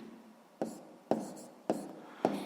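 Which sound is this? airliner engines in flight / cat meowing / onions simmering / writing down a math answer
writing down a math answer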